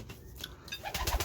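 Soft, close cooing of pigeons inside a loft, a few brief low coos and rustles, faint and alone.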